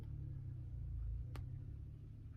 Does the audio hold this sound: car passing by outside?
yes